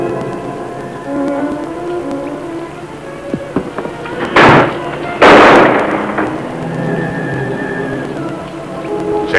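Two loud sharp bangs ring out a second apart amid a murky background rumble, like gunfire in a dramatic scene, from a 1945 Sherlock Holmes film.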